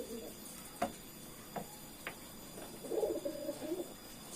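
Young racing pigeons, recently learning to eat and fly and bred from maneuver-pigeon parent stock, coo softly in a few low murmuring bursts strongest toward the end, with scattered faint clicks and ticks and no talking.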